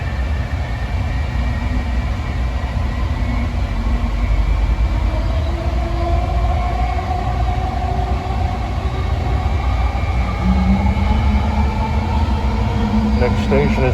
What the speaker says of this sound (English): This is the Howard Beach train